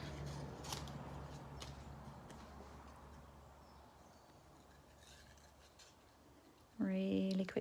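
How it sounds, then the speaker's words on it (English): Scissors cutting around stamped paper make a few faint, light snips against a quiet room background, followed at the end by a brief louder tonal sound. "Let's just snip off that. Cut around the Friend."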